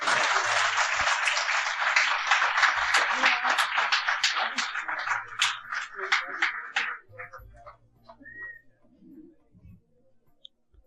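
An audience at a Ramzan iftar broadcast bursts into loud, full applause that keeps going for several seconds, then thins out and dies away into scattered claps, with voices heard toward the end.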